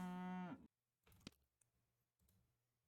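A cartoonish cow moo from the video game Super Auto Pets rings out once, loud and harmonic at the start, then cuts away to quiet clicks and soft game noises.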